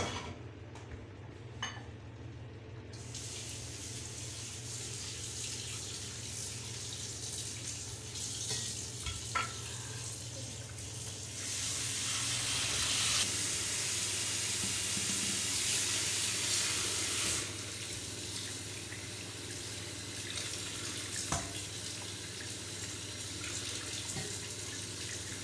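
Tap water runs steadily into a sink as raw beef is rinsed for nilagang baka, a continuous splashing hiss that grows louder and brighter for several seconds in the middle before settling back.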